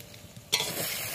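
Egg being stirred and scrambled in a hot pan for egg bhujia, a sudden burst of sizzling and scraping after a quiet moment, then steady frying noise close by.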